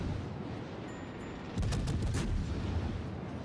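Warship guns firing armor-piercing shells in World of Warships, a Minotaur cruiser engaging in a clan battle; a loud sustained rumble of several booming salvos begins midway and rolls on over low battle ambience.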